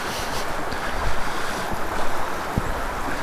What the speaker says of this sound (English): you can see how much water is going through the little pool on the side here